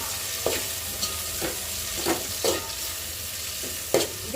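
Tomatoes and onions frying in a pan for veg pulao, a steady close sizzle with a spoon scraping and stirring through it every half second or so, no voices.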